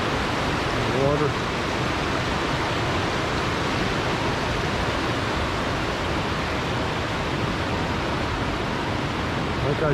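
Steady, loud rush of water from the creek at Dutchman Falls, an even broadband roar that holds without pause from start to finish.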